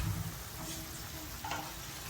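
Sardine broth with bitter melon leaves bubbles and sizzles steadily in a pan, a close, even simmering hiss with faint stirring clicks and no talk.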